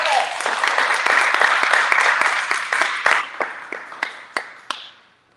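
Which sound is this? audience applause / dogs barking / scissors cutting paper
audience applause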